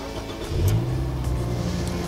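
A camper car's engine is started inside the parked vehicle, a brief crank then a settled mid-pitched idle hum, heard from within the cabin with no talk.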